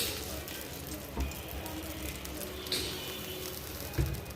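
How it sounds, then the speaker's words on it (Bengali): Soft, continuous sizzling of food frying in oil, fairly quiet, with a few light clicks and bumps. "জানি না ভাজা কতটুকু হয়েছে, তারপরে ইসারাবু বলবে কি আরও ভাজা দরকার ছিল।"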